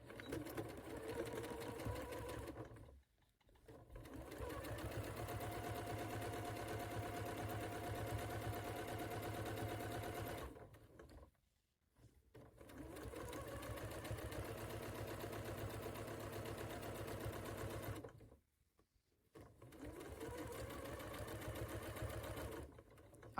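A home sewing machine stitches a quilt seam toward a Y seam in several quiet, steady motor runs, each lasting a few seconds and broken by brief silent pauses.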